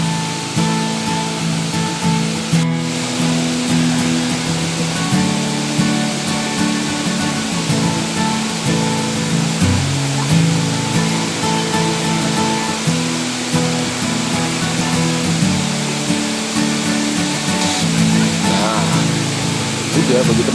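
Benang Kelambu waterfall, a tourist site, pours as a steady, loud, continuous rush of water throughout, with people talking over it at times.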